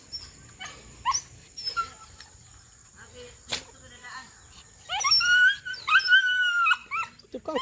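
Several dogs at home, including two pregnant females, give short barks and high whimpering whines, with a louder burst of yelping cries toward the end and insects chirping steadily in the background.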